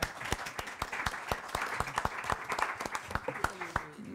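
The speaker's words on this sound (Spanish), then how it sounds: "podemos aplaudir también, si queréis" A conference audience applauds in a steady, moderately loud wash of claps, with a few distinct nearby hand claps standing out and faint voices underneath.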